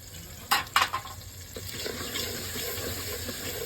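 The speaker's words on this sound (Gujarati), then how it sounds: "તો હવે એમાં નાખી દેવાના છે ટમેટા. થોડીક નાખી દઈએ હળદર." Tomatoes and turmeric dropped into onions frying in a pan for a village-style Gujarati vadi curry, two sharp clatters followed by a steady close sizzle and faint stirring.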